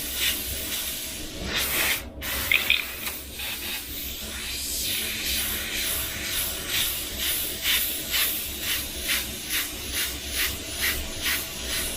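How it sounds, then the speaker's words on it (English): Airbrush hissing out thinned golden acrylic paint, a close continuous spray broken by rhythmic short bursts toward the end, with no voices. "This is spraying how my golden acrylics would spray."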